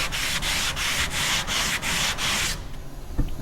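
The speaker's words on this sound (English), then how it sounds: "I've got a sanding block here with some 100 grit on it" Rhythmic back-and-forth scraping of a sanding block with 100-grit paper rubbing Bondo filler, about seven strokes, then it stops, followed by a light knock.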